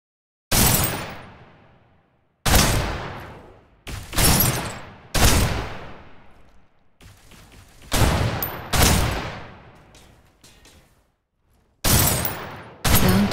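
Gunfire in the shooter Snowbreak: Containment Zone: about eight loud, sharp shots spaced a second or two apart, each with a long decaying echoing tail, heard alone without talk.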